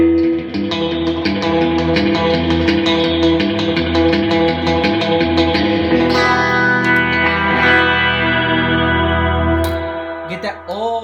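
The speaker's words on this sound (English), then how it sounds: "old spring reverb. I love about it because it had that little bounce." Electric guitar chords ring out with a wet, bouncy spring reverb tail, played steadily and fairly loud, with a few strums near the end.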